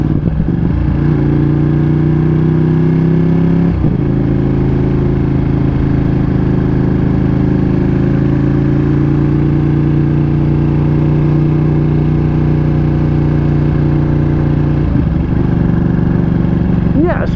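Ducati Panigale V2 Bayliss motorcycle with an Akrapovic titanium full race exhaust idling loudly nearby, a deep steady rumble with brief blips in pitch near the start and end.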